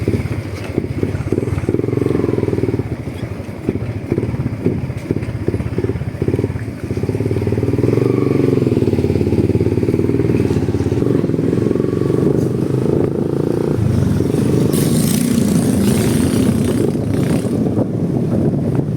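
A close, loud motorcycle engine runs continuously, its throttle pulsing and rising in a few revs before settling into a steady drone.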